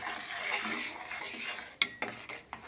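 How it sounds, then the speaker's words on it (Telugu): Semiya payasam being stirred in a pot, a spoon scraping and clinking against the metal sides in a steady churn, with a few sharper knocks near the end; nobody talks. "కొంచెం సాల్ట్ వేసుకున్నప్పుడు మొత్తం కలిపేద్దాం"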